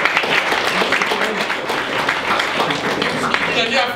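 Audience applause at a talk on computing degrees, a dense burst of clapping throughout, with voices mixed into it.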